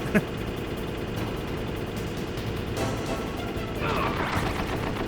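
Grenades going off in the video game Archipelago, a burst of sharp blasts and rapid popping over a dense, steady battle din, with a louder crackling swell toward the end.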